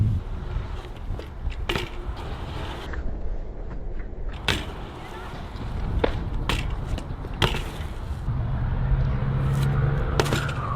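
A BMX bike rolls and carves over a ramp at an outdoor park in Baton Rouge, Louisiana, with a steady rolling rumble broken by several sharp clacks and knocks of tires and frame landing, no talk.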